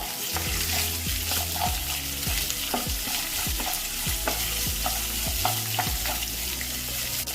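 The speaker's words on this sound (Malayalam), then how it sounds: "ഇനി ഇതിലേക്ക് നമ്മൾ മാറ്റി വെച്ചിരിക്കുന്ന ചുവന്നുള്ളി ഇട്ട് കൊടുക്കാം" Shallots sizzle and fry in a pan with urad dal and dried red chillies, steady crackling oil under repeated scraping stir strokes, close and continuous with no talk.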